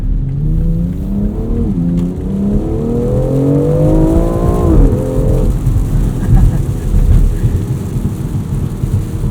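A 2020 BMW X4M Competition engine pulling hard with rising revs, a pitch drop at a gear change, then another climb before the note falls away into road and wind noise.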